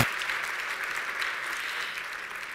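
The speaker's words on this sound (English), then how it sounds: "so give him a round of applause as well." Audience at an evening event for nurses applauding trumpet player Bobby McGee, a dense steady wash of clapping from a crowd, fairly distant, slowly fading.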